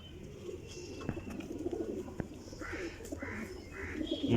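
A pigeon coos in a short series of soft, rounded calls at moderate distance, over a low background murmur and a few faint clicks.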